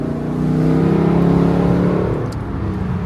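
Loud, throaty naturally aspirated V8 engine of a Lexus LC500 revs steadily from close by, a deep rumbling roar that swells and then eases slightly, with no voices.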